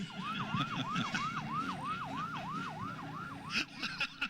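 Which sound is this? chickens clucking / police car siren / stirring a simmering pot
police car siren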